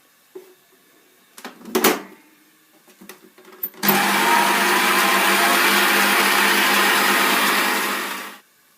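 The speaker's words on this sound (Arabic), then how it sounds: "نخلطوا هذه المقادير حتى يولي رغاوي ابيض" After a few clicks and knocks, an electric mixer whirs on steadily for about five seconds, whipping pastry batter ingredients until white and foamy, then stops.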